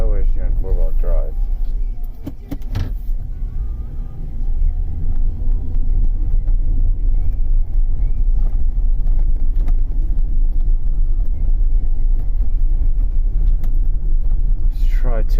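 A 2004 Chevrolet Suburban with a 6.0-liter V8 drives in four-wheel drive, its steady low road rumble and engine drone continuing loudly throughout with no breaks.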